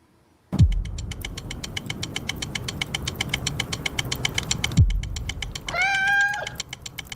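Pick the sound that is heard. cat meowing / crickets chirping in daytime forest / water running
cat meowing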